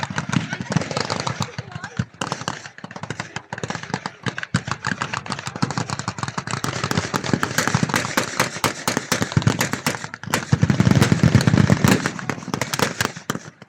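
Battle reenactment gunfire with machine guns and vehicle guns firing on German trenches at a Victory Show event, dense rapid bursts of shots layered over engine rumble, loud and continuous with a heavier surge near the end.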